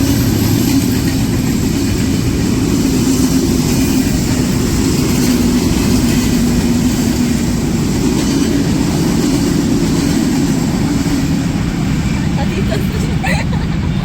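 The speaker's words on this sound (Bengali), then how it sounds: "এই ট্রেন আসতেছে।" A train rumbles past nearby, a heavy, continuous low roar that holds steady for the whole stretch, with people talking over it.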